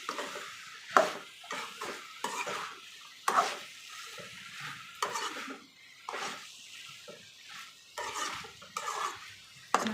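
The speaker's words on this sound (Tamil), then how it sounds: "காயை நல்லா வதக்கிக்கலாம்" Brinjal and tomato being stirred and sautéed in a pan for brinjal curry, repeated scraping strokes of a spoon against the pan at an irregular rhythm over a soft sizzle, close and moderately quiet.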